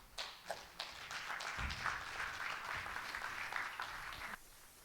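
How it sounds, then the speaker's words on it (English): An audience at a DevFest Lagos tech conference talk breaks into applause, starting with a few scattered claps and swelling into a fairly quiet, sustained round of clapping that stops abruptly. "Please, another round of applause."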